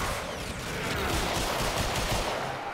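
Rapid continuous gunfire from a gun in the video game Warframe, a dense unbroken rattle of shots held at steady loudness for the whole stretch, with no talk.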